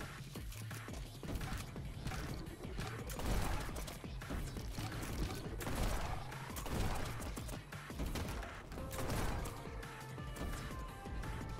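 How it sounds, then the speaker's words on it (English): Shotgun fire rings out amid the fast-paced action of the game Neon White, several sharp booming shots scattered among mechanical clanks, crashes and sliding whooshes over a steady game soundtrack. "Oh, I still had a shotgun."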